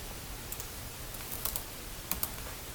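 A few soft keyboard clicks tap out irregularly over a quiet room hiss, with small bursts of key presses spaced apart.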